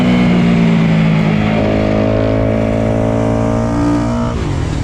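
Motorcycle engines at the start of a race in the Master GP video game, a loud continuous droning roar with several overlapping engine tones that shift pitch upward partway through as the bikes pull away.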